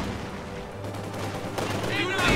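Continuous gunfire fills a battle in the World War II strategy game Company of Heroes 2, loud rattling bursts layered with shouted voices and a rising crack of shots toward the end.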